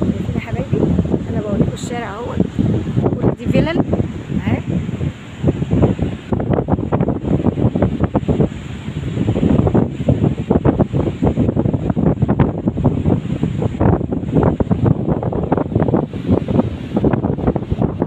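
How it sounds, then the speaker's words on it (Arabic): Strong wind and rough, high sea surf roll across the Marsa Matruh beach in front of seaside villas, a loud and steady roar that fills the whole stretch with gusty buffeting. "البحر عالي النهارده قوي"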